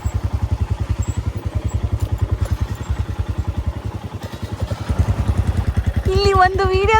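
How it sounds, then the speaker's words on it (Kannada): A scooter engine putters at idle up close, a steady low rapid throb that rises slightly near the end, with people talking over it. "ಸ್ಕೂಟಿ."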